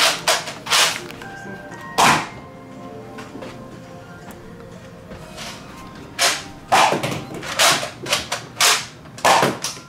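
Several sharp snaps from a small Nerf toy blaster fired indoors, coming in quick bursts and single shots close to the listener, with short gaps of quiet between the volleys.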